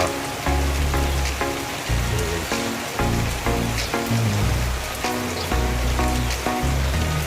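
Steady rain falls on a rainy morning in Infanta, pattering densely on surfaces close by, with an irregular repeating low thumping mixed into the constant downpour.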